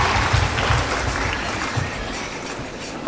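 Audience applauding at a college graduation ceremony for the class of 2024, a steady wash of clapping from a large crowd that holds for about three seconds.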